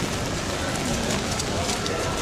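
Rain falling at Disneyland near the Splash Mountain ride: a dense, even hiss of rainfall across the whole moment, steady and enveloping, with faint indistinct background noise and no clear speech.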